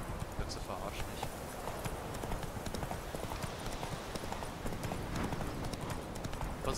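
Horse hooves clip-clop steadily as a horse is ridden in the video game The Witcher 3, a continuous close rhythm of hoofbeats on ground with a low background rumble.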